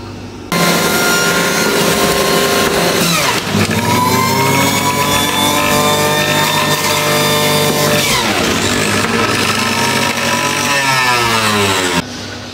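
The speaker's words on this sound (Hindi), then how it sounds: "अब हम जूसर की मदद से इनका जूस निकालेंगे जी।" Electric juicer extracting juice for a chicken boti recipe, giving a loud, continuous motor whine whose pitch shifts as it loads, running alone for about twelve seconds with no talking.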